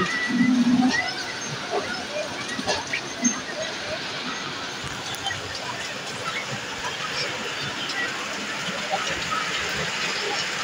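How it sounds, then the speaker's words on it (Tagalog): Very heavy rain pours down in a steady, dense hiss with scattered louder drops and splashes, while a voice murmurs faintly underneath at the start. "Sobrang lakas na ng ulan."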